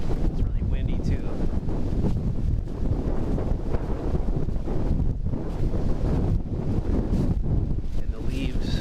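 Strong wind on a steep lower bluff trail in Frontenac State Park, Minnesota, in November: continuous gusty roar and heavy buffeting on the microphone, loud throughout with no clear pauses.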